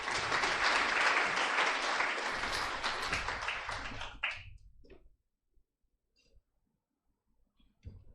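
Audience applause at an NGO symposium, a dense sustained clapping that fills the first four seconds and then fades out quickly, leaving near silence with a few faint scattered sounds.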